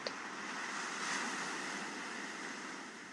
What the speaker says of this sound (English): feel the rhythm of the calm waves flowing over your mind